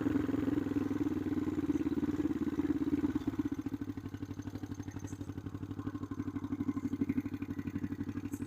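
A motorcycle cruising at low speed through a marina, its engine giving a steady, close rumble with a rapid pulsing beat that eases slightly partway through, with no talking over it.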